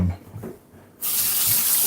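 Warm water suddenly gushes from a tap into a kitchen sink and keeps running in a steady, close hiss after a brief quiet moment.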